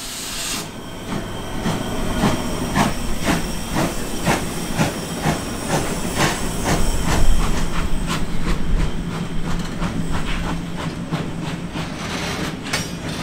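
A modern steam locomotive fired with wood pellets hauls a 400-tonne train along the Meppen-Haselünne railway in Emsland, with steady loud hissing steam and rolling wagon noise. A regular clickety-clack of wheels runs throughout, with no voices.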